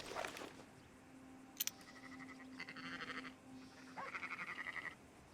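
Sheep bleating in the video game Red Dead Redemption 2 in a wooded farm area, a few short wavering bleats spaced apart over a quiet background with a faint steady hum, fairly soft and mid-distance.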